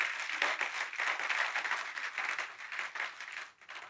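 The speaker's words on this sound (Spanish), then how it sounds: "Denle un aplauso al Señor, Él se lo merece" Church congregation applauding during a Spanish-language Sunday service, a dense wave of clapping with a few voices mixed in that rises and falls in pulses, then tapers off at the end.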